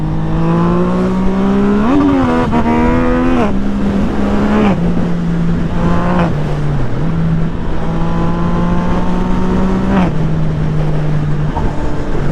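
A Yamaha MT-09 SP fitted with a Tiger exhaust roars loudly and steadily while riding, rising in revs around a few gear changes and then settling into a continuous drone, with brief throttle blips.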